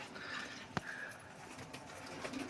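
Pigeons coo faintly in a loft, soft low calls repeating against a quiet background with a brief sharp knock partway through.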